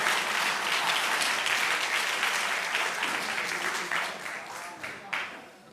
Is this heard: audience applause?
yes